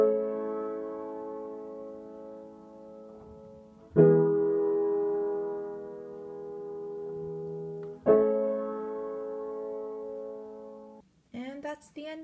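Piano chords from a song, played with both hands: sustained chords held several seconds each, struck anew around every four seconds, with a brief voice at the very end.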